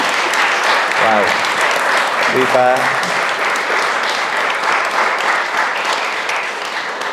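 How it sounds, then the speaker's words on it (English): An audience at a Christian talk event gives a full, sustained round of applause for the guest speaker, loud and steady, fading slightly toward the end, with a brief exclamation from a voice early on. "a round of applause"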